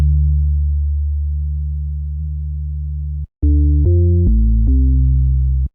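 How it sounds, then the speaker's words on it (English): Synth bass through the Gnaw harmonics plugin by Cleveground on a medium setting: a long deep sustained bass note, a short gap, then a run of quick stepped bass notes, loud and dry with no voices. "The first plugin in this chain is called Gnaw by Cleveground, and it basically adds extra harmonics."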